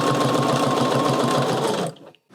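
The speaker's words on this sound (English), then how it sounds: "That was so quick and so simple to sew." A sewing machine stitches zigzag crosshatch quilting lines with a loud, close, rapid mechanical whir that runs steadily, then stops abruptly near the end, leaving a short silence before a brief restart.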